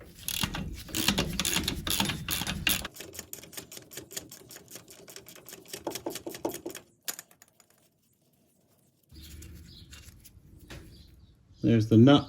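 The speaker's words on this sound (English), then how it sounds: "it is a 17mm socket on the back. So it's a 17mm nut head size. So we'll just undo that." A ratchet socket wrench with a 17mm socket undoing a nut on a Ford Ka front suspension arm. It makes rapid, close, evenly spaced clicks in bursts, then goes quiet, with talk and clatter before and after.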